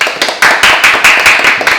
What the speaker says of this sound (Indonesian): Jadi tepuk tangan untuk UL.